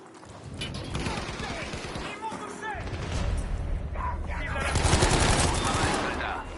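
FG42 rifle gunfire in a competitive video game match, bursts of rapid shots and mechanical clicks over several seconds, mixed with in-game effects and a commentator talking over it.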